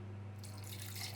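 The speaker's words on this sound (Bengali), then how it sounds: "পানি দিলাম," Water pours steadily into a cooking pot while dried fish is being prepared, a short, quiet and continuous splash.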